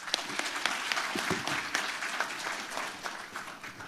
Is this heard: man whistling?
no